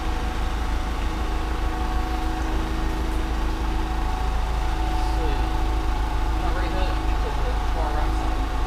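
A forklift engine idles and labors steadily at close range while towing a Defiance horizontal boring mill into a shop, a continuous low rumble with no pauses.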